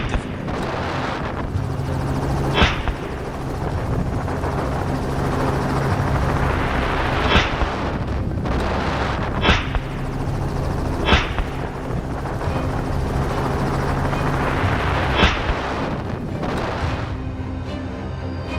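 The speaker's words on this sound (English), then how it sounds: "the helicopter's low altitude to reduce glare caused a lot of noise" A helicopter roars close and low during a wild boar hunt, its rotor thumping continuously for the whole stretch, with several sharp cracks punctuating the din.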